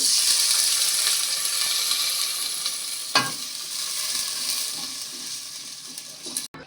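Spices sizzle and hiss steadily in a pan for a duck and papaya curry, with onion, bay leaf, cinnamon and ginger-garlic paste. A stir lands around the midpoint and another clatter comes near the end. No one speaks.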